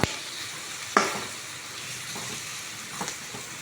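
Turmeric and coriander powder are stirred into a sizzling masala for dosa filling. A steady frying hiss sits under a few sharp scrape and tap sounds from the spoon against the pan, heard close up without speech.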